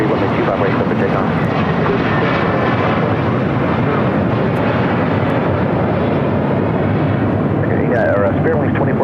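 Alaska Airlines jet taking off on runway 25 right at LAX, a loud, steady broadband engine roar filling the whole clip, with radio chatter faintly underneath.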